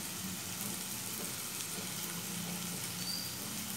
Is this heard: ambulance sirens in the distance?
no